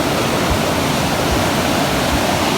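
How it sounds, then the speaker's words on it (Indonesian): Water pours steadily through narrow cave passages into a small waterfall, giving a loud, continuous rushing and splashing with no voices. "Air mengalir dari arah sana dan dia menyusuri lorong-lorong sini dan akhirnya membuat suara di sebelah situ, membentuk seperti air terjun mini"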